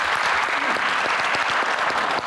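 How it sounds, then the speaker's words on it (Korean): An audience at a government biotech policy forum gives a warm round of applause, a steady and dense wash of clapping from many people that holds at an even level. "다시 한번 정은경 장관님께 감사의 박수 한번 부탁드리겠습니다."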